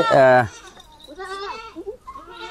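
Goats on a farm bleat loudly, one strong nasal bleat up front followed by softer, wavering bleats from the herd of does and a buck, close by with no talk over them.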